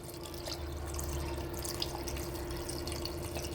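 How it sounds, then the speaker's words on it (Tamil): Water pours steadily into a pressure cooker while making Dindigul-style mutton biryani, a continuous close splashing stream with no talk. "இப்போது இதுக்கு நம்ம அரிசி எப்படி எந்த கப்பில் எடுத்துருக்கோமோ அதே கப்பில் 2 கப் அளவு கணக்கில் தண்ணி இப்போ"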